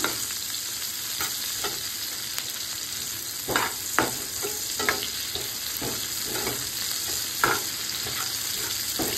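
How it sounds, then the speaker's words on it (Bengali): Chopped onion stirred and lightly fried in a pan, with a steady hiss of frying under repeated scraping strokes of the spoon; no voices. "পেঁয়াজটা দিয়েও ভালোভাবে নাড়িয়ে নিচ্ছি।"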